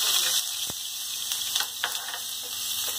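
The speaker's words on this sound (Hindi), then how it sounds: "देखिए हमारा तेल गरम हो चुका है, अब इसमें हम प्याज को डाल देंगे" Onions dropped into hot oil, frying with a constant bright sizzle, with a few faint clinks of stirring.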